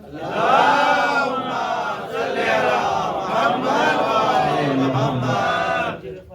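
A large crowd chants religious salawat slogans together inside a mosque during a Shaban celebration, a loud, sustained mass of voices rising and falling for several seconds.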